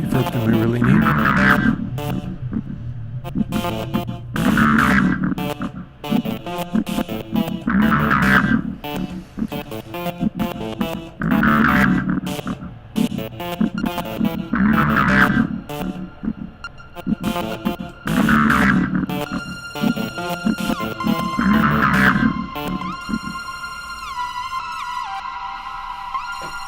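A repeating synthetic tone pattern runs through an audio effect plugin with heavy reverb, pulsing in regular bursts about every three seconds, then shifting to sustained ringing tones near the end.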